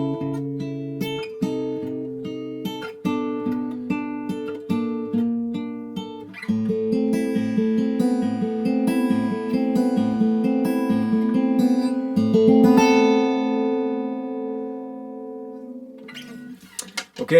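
An acoustic guitar plays the turnaround from a song, starting with separate picked notes and strummed chords, then thickening into a fuller rhythmic pattern before ringing out, heard alone.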